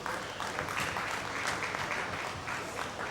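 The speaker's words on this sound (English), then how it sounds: "Please, a great round of applause for him" Brief round of applause from the audience at an FRSC anniversary ceremony in Lekki, a continuous, moderately loud patter of many hands clapping without a break.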